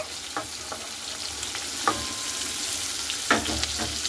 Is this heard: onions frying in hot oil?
yes